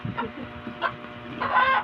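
Chickens cluck softly in short bursts over a steady background hum, with a louder squawky cluck near the end.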